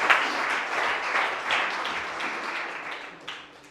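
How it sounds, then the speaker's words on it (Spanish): Congregation clapping in an evangelical church service, a moderate, steady applause with a few sharper claps, continuing at even strength throughout. "Vamos a darle un aplauso a Dios, al Señor, a nuestro hermano Rey, a su familia"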